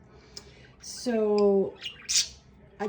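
Pet birds squawk and chirp in their cage, a loud harmonic squawk in the middle flanked by sharper, higher chirps and short calls, close by against a quiet room.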